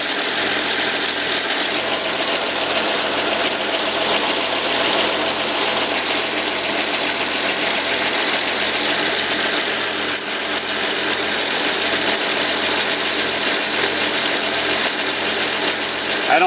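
A 1952 Chevrolet Styleline engine runs at a steady idle during a generator test, a loud, constant mechanical drone with an even, slightly knocking rhythm that holds unbroken throughout.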